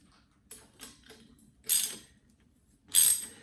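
Wrench ratcheting while a bolt is tightened on a 1979 Schwinn Traveler III bicycle, a few short clicking bursts followed by two louder, brighter ratchet runs, close and clear with no talk.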